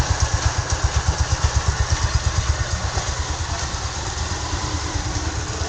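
A Rusi motorcycle engine idles close by, its clean, steady low putter pulsing in an even rhythm throughout with no talk over it.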